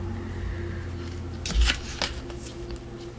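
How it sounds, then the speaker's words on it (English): Paper being folded in half for a waterfall ephemera craft piece: close, soft crinkling and rustling with a couple of crisp creasing snaps over a quiet background. "So I'm just folding this in half."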